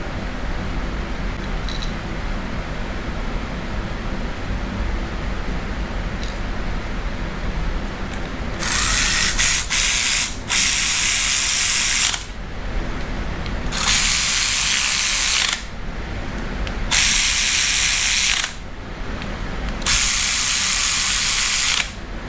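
A ratchet tightens Ford bolts on a Chevy LS engine, covering the oil pump and pan. It runs in four sharp bursts of rapid clicking over a low room hum, with quiet gaps between them.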